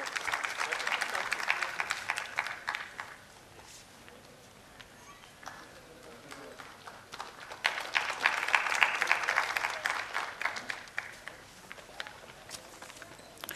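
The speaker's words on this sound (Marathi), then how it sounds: "एकदा जोरदार टाळ्या सन्माननीय आयुक्त साहेबांसाठी." Audience applause for the municipal commissioner at a public event in a hall, a broad rushing roar of many hands that swells, dips in the middle, then rises again loudly before trailing on.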